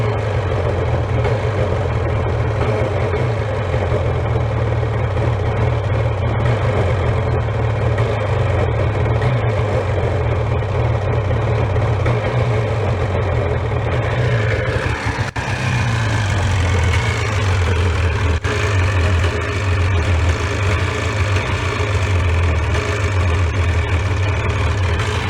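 A jet ski engine idles steadily for a long stretch, a low throbbing drone that shifts pitch slightly partway through, close and constant.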